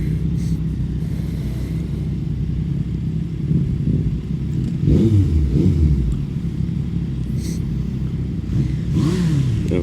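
A Yamaha MT-09 SP motorcycle engine rumbles and revs on a road ride, a low throaty roar with a few rising throttle blips over a steady drone, heard close with no talk.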